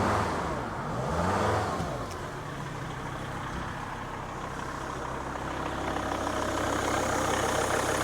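A Volvo XC90 engine idling steadily with a low continuous hum, a brief rise in pitch near the start like a quick rev, then settling back to an even idle.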